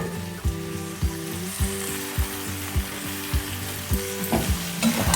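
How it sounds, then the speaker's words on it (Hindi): Fried vegetables being stirred into roasted spices in a pan, a steady sizzle punctuated by regular rhythmic scraping knocks of a spoon against the pan, close and loud with no voices. "अब हम इसमें डालेंगे सारी फ्राई की हुई सब्जियां"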